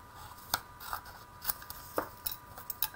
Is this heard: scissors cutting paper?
yes